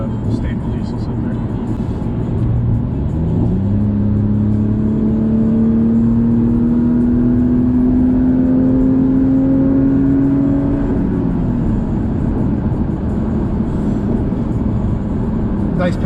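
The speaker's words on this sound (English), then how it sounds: "Nice pickup on this car." A 2021 Acura TLX accelerates on the road with a loud engine note that climbs in pitch and then holds, heard from inside the cabin over steady road roar, with voices talking beneath.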